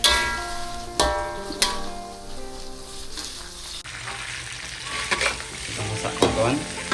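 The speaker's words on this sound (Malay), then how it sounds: "Goreng kering, tak ada air, tak ada sup, goreng kicap campur nanas kering." Fish dry-fried in soy sauce with pineapple, sizzling and stirred in a pan over a background of steady tones, with sharp scraping clatters from the utensil at irregular moments.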